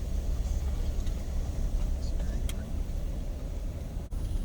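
A car drives slowly into the old American Cemetery in Natchitoches, Louisiana, a steady low road rumble with faint wind and road noise throughout and no clear talk.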